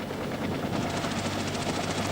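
Helicopter heard during an embassy evacuation in the final days of the Vietnam War, with rotor blades chopping rapidly and steadily, loud and close, and no talking.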